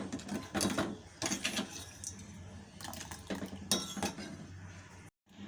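A spoon scrapes and clinks against a pot while sago payasam with sugar is stirred, in intermittent bursts of metallic stirring followed by a brief silence.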